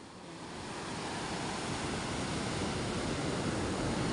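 Rough sea after a storm roars as a dense, continuous wash of surf and wind, swelling slightly at the start and then holding steady and loud with no voices.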